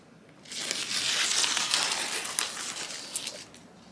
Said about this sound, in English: Pull off tape now.